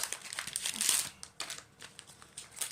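A mailed parcel of Seventeen merchandise is pulled open by hand, giving close crinkling and rustling of packaging in short bursts with brief pauses.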